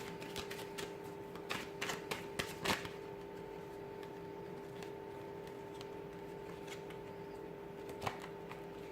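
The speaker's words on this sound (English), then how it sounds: "we'll give the cards a shuffle" Crisp, papery riffling bursts of shuffled cards in the first few seconds, then a quieter stretch with a faint steady hum and one more soft flick near the end.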